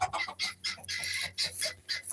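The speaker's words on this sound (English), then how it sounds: "And this is a little bantam rooster I call Chihuahua." A small bantam rooster clucks in quick, close bursts, several short throaty clucks in an uneven rhythm on a farm, with no voices.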